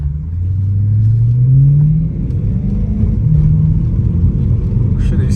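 BMW M3 in stock condition accelerating down a ramp onto a freeway, a steady low engine rumble with a rising tone that swells then levels off, heard from inside the car.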